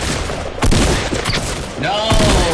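Rapid bursts of Fortnite gunfire crack out in a loud, dense volley, with a brief pause and then another run of shots, while a voice shouts over the action.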